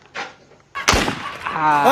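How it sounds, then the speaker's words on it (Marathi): Gun fired outdoors, a sharp loud crack followed by a fainter earlier pop, with a voice rising at the end. "बंदूक आता पुन्हा एकदा पेट मारतोय तो बघा"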